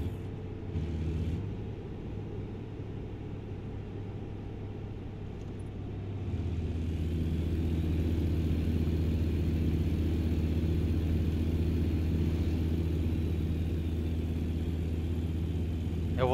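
Steady low rumble of a truck engine cruising down a highway in American Truck Simulator, a continuous drone that swells slightly louder partway through, with no talk over it.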